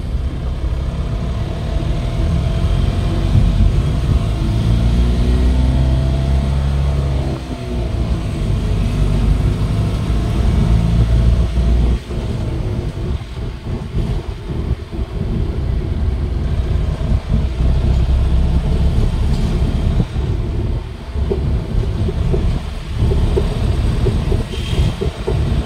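A Suzuki Super Carry with a two-cylinder diesel engine, previously hard to start, rumbles loud and close as it builds revs, its throbbing drone holding steady with brief dips over nearly half a minute.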